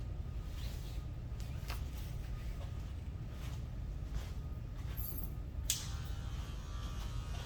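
Electric hair clippers run as a steady, quiet buzz while cutting an inverted bob, with small snips and rustles of hair over the drone and no talking.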